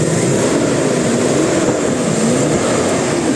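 A car engine that would not start runs after being diagnosed, giving off a loud, steady drone with a slightly wavering hum and no pauses.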